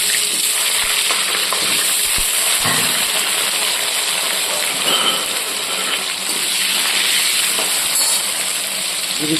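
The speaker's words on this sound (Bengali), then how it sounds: "কড়াই তেল চাপিয়ে দিয়েছিলাম প্রথমে আলুগুলো আমি ভেজে নেব" Potatoes fry in hot oil in a kadai, giving a steady, dense sizzle that holds evenly throughout with a few faint clinks and stirs, close by and with no voices.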